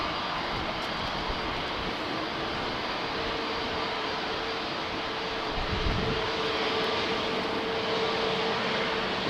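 A Pegasus Airbus A320neo jet rolls onto runway 36L at Amsterdam Schiphol Airport in showery weather, giving a steady distant engine roar that swells slightly toward the end, with no voices.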